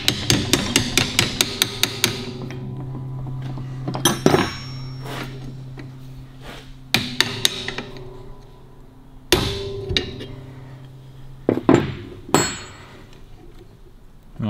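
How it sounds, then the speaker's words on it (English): A small hammer taps on the fork rockers of a Harley-Davidson WLA motorcycle. Bursts of sharp metallic clinks come in quick runs, then pause, with a ringing, resonant tone after several of the blows. "Let's get a little hammer, give that a little tappy poos."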